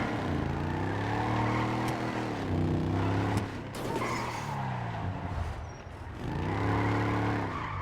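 A car drifting in GTA5 with heavily modified handling, its engine droning loudly and tires squealing in long sweeps that rise, fall and return, loud and alone without talk.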